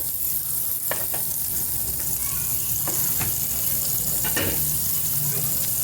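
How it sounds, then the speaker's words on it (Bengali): Butter sizzling in a frying pan while preparing masala sweet corn, a steady close crackling hiss with a few sharp pops and clicks scattered throughout. "এখন একটা ফ্রাইং প্যানে বাটার দিয়ে দিলাম"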